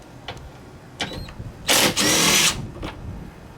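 A power tool backs out 8mm screws holding a front sway bar bushing on a 1992-2008 Ford Panther-platform car, giving a few short whirring bursts and then one longer, louder buzzing run, heard up close with no voices.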